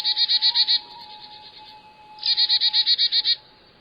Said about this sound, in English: It's the Carolina chickadee.